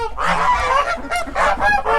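Farm geese honk repeatedly up close while feeding, a busy cluster of nasal calls overlapping one another with short gaps between bursts.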